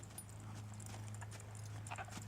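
Hooves of a horse jogging in circles under its rider, a steady clip-clop rhythm over a constant low hum, fairly close and moderately loud.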